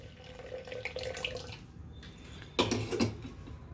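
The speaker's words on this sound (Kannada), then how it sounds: "ಇದನ್ನು ನೀರೆಲ್ಲ ಬಗ್ಗಿಸ್ಕೊತೀನಿ" Water is drained off washed moong dal. A faint, close trickle and splash of water runs throughout, with a brief louder gush near the end.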